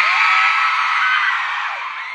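A concert crowd at a band's show in Ardabil screams and whoops in one continuous loud, dense roar, close and sustained, slowly tapering slightly toward the end.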